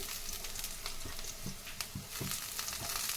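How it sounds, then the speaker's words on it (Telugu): Chopped onion, tomato and a small piece of cinnamon frying in a pan for jowar rava khichdi, a steady close sizzle with scrapes and stirring knocks from a spoon at intervals, no voices. "వీటన్నిటిని మనం ఇప్పుడు దోరగా వేయించుకున్నాం."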